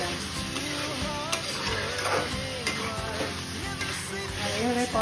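Chicken being stir-fried (kosha) in oil makes a constant close sizzle, with utensil scrapes and stirring clatter scattered through it and no speech.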